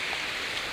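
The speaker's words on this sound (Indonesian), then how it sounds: "Ini lagi hujan-hujan ini." Rain patters down in the forest on a muddy jungle hike to a giant waterfall near Nabire, Papua, a brief, steady hiss that fills the moment evenly, with no voices over it.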